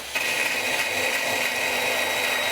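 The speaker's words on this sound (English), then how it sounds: "Now I just want to come back with a die grinder bit and just kind of clean up all these edges." A die grinder bit runs steadily, cleaning up freshly cut edges on a vehicle frame during a base plate installation; a loud, continuous high-pitched whine starts abruptly and holds close and alone.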